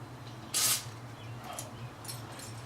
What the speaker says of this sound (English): take your key back out, spray your lock again.